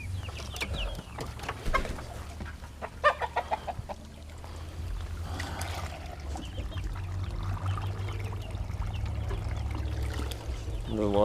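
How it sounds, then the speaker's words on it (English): Chickens in a coop cluck in short bursts and scattered calls, fairly faint, over a low steady hum with occasional talk. "Chickens."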